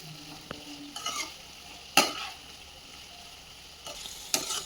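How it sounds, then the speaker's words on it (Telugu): Bitter gourd and garlic fry in a pan with a steady, close sizzle, broken by a few louder scraping stirs spaced a second or two apart; no one speaks. "కాకరకాయతో పాటే ఇవన్నీ కూడా బాగా మగ్గాలన్నమాట. ఇలా అన్నీ మిక్స్ చేసుకోవాలి."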